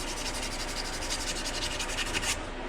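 Rust being hand-sanded off a KTM 690 fork part, a steady close rasping rub with quick regular back-and-forth strokes, alone with no talking.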